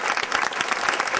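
Brief burst of audience applause at a mentalism show, a dense patter of clapping hands heard close and fairly loud for about a second.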